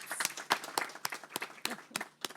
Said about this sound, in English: I'd like a round of applause, please, for our panelists.